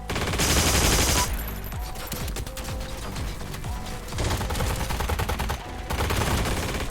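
An M2 machine gun fires in the video game Heroes & Generals: loud, close bursts of rapid automatic fire that repeat several times with short breaks between them.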